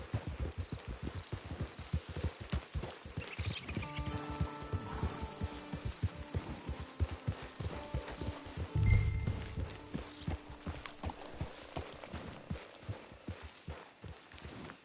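Horse hooves clip-clop in a steady walking rhythm close by in Red Dead Redemption 2 Online, with faint tonal background sounds and a soft thump midway.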